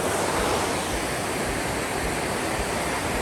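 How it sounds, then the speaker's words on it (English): Powerful waterfall roaring from close range at the edge of the drop, a loud, dense and unbroken rush of falling water with no voices. "I can stand right here on the edge of the waterfall."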